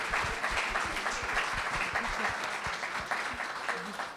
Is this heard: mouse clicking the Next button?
no